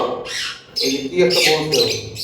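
A bird squawks loudly in harsh, raspy bursts, close by, with people talking underneath.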